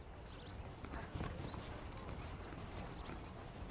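Rhythmic clip-clop of horse hooves at a steady walk in the video game Red Dead Redemption, fairly faint, with soft chirping birds in the background.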